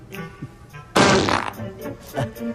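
A fart-sound phone ringtone plays once, a loud, rough, buzzy blast lasting about half a second, with people talking quietly before and after it.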